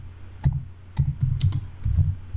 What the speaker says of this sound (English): For example, I'm just typing this one and it will give me this one.